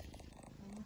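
A mother cat purring to her newborn kittens, a soft close rumbling purr that is steady and faint throughout the brief moment.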